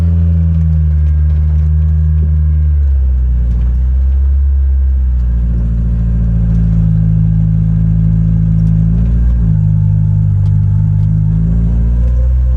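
A barn-find Ford Escort Mk2 on its first drive through a field, its engine droning close and loud throughout, with pitch dips and rises as it changes speed.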